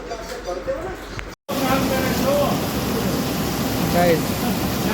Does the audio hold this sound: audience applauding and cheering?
no